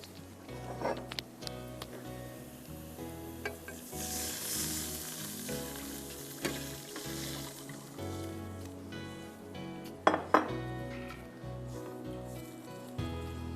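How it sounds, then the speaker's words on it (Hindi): Chopped onion and garlic sizzle steadily in a hot pan with occasional clinks and stirring sounds, while music plays quietly in the background. "मैंने इसमें प्याज और लहसुन डाल दी चॉप। ये हल्का सा फ्राई हो गया"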